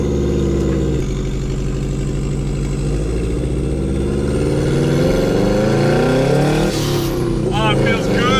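Turbocharged ute engine running on E85, loud and close, idling roughly then building into rising revs as it pulls away, with a whooshing turbo sweep near the end.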